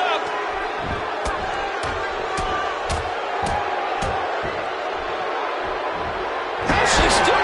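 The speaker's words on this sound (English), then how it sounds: "You can hear this crowd." A wrestling event crowd roars steadily throughout, with sharp slams or claps punctuating it and a louder surge of cheering near the end.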